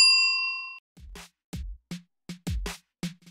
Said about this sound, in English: Hit the notification bell.